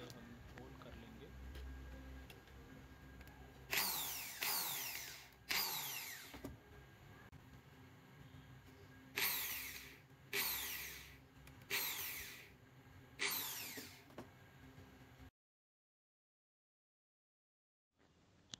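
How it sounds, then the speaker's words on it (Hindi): Electric drill boring holes through PVC pipe for a homemade laptop stand, heard as six short whining bursts in two groups of about a second each, fairly close, then silence. "मार्किंग पर ड्रिल की हेल्प से हम होल कर लेंगे।"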